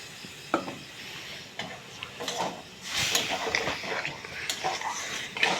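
Spiced food being stirred in a cooking pot, a spoon scraping and clinking against the metal in irregular strokes, with a faint sizzle underneath and the sound close by.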